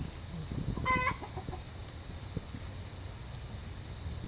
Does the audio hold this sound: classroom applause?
no